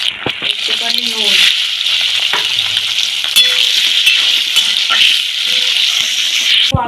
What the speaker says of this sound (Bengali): তাই সেদ্ধ আলুটাও আমি একটুখানি ভেজে নেব